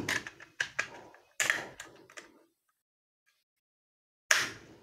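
Sharp clicking of Solakaka SM802 computer mouse buttons after a switch replacement, a few quick close clicks in bursts with a pause of silence before one final click, no talking.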